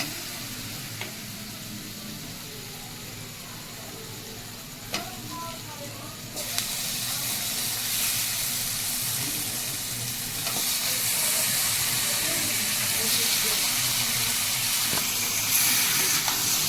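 Chicken hitting a hot pan of oil and spices with turmeric, sizzling and frying steadily; the hiss swells louder after the meat goes in and keeps crackling through the rest, with faint stirring clinks.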